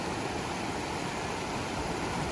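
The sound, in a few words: swift creek flowing in Virginia Canyon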